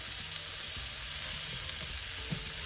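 Food fries uncovered in a pan on a stove over low heat, a steady, dense sizzle with faint crackles and occasional stirring, no voices.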